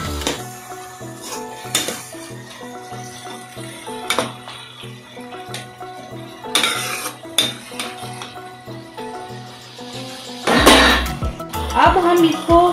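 Spoon clattering and scraping against a pan while mixing bhindi besan masala with garam masala, a run of metallic clinks and stirring scrapes, louder toward the end, with music underneath.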